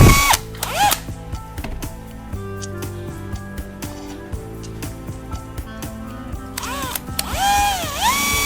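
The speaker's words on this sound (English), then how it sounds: "Next, I prepare a PVC pipe and drill a small hole at each end." A power drill whines steadily at close range as it drills into PVC pipe, its pitch dipping and climbing as it bites in, with mechanical clatter between bursts.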